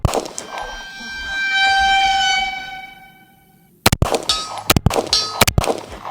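A 1911 pistol, a Bul Armory Tac Pro 5-inch, fires at a steel target 100 yards out: a long bright metallic ring fades away, then several sharp, loud shots crack in an uneven series.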